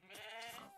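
A goat in Minecraft (1.17 snapshot 21w15a) gives one short, wavering bleat, faint and alone.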